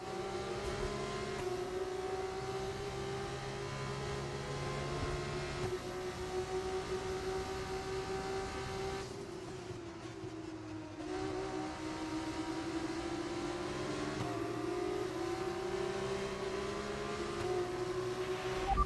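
Formula 1 car engine in the F1 25 racing game, a loud sustained high-pitched scream with smooth rising and falling revs through gear changes and a brief dip mid-run, continuous throughout.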